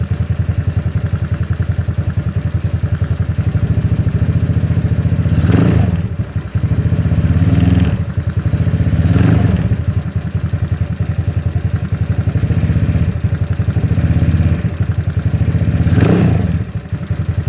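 A ZNEN ZN150T-9 scooter engine, as fitted to an SSR Interceptor 150, idles steadily and is revved as the throttle cable is pulled by hand, giving four or five short rising revs spaced a couple of seconds apart, close and loud.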